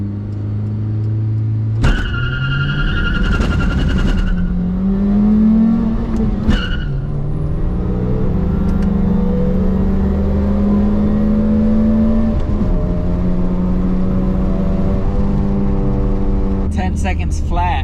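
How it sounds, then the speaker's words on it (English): A 2001-2005 Honda Civic with a 5-speed manual revs hard through a 0 to 60 run, the engine climbing in repeated rising sweeps between gear shifts, loud and close from inside the cabin. "Let's see if this transmission change did anything to the car to make it perform better."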